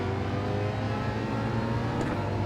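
The Ford Mustang Gr3 race car engine in Gran Turismo 7 roars continuously at high revs, a dense steady howl with tyre and wind noise blended in, loud and close throughout.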